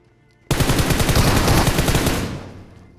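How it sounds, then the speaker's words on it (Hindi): Rapid automatic gunfire in a mobile shooter game, an S12 shotgun in a close fight, one loud sustained burst of about two seconds that starts abruptly and then fades. "शॉर्ट गन लेके मार रहा भाई बंदा"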